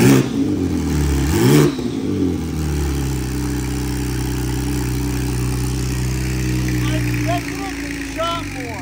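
A built 1500 HP BMW G80 M3 engine fires on its first start, catching with a loud rev that settles into a steady, rough idle, with voices talking nearby.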